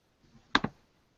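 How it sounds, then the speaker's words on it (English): A computer keyboard's Enter key is pressed, giving a close double click in quick succession, crisp and fairly faint in an otherwise quiet room. "hit enter again on your keyboard."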